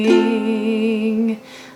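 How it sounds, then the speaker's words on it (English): A single acoustic guitar chord rings out from one down strum and sustains steadily for over a second before being cut short, played alone and close with no voices, as in a strumming pattern for a song. "So if you're playing on just chord changes on a down strum,"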